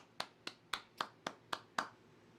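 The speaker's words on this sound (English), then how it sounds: "We're just gonna clap it up just a little." Seven sharp hand claps in a steady, even rhythm, close and clear with nothing else around them.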